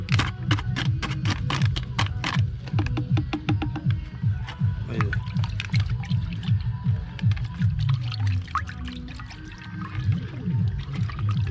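Water poured into a pesticide mixture being prepared against whitefly on papaya plants, a steady, continuous pour close by with no one talking.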